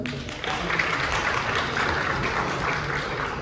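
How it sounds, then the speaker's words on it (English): Audience in a conference auditorium at a medical university research conference applauds a student presenter, giving a steady, even wash of clapping that holds at moderate level with no talk over it. "Please give her a round of applause."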